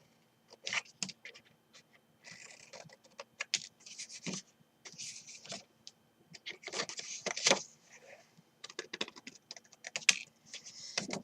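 Scissors snip through card while a seed gift box is being made, giving a string of short, close, crisp cutting bursts with small pauses between them and no one talking.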